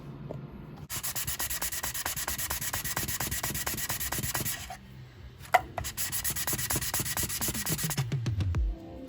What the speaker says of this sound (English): Start by wet sanding with coarse sandpaper between 180 and 240 grit.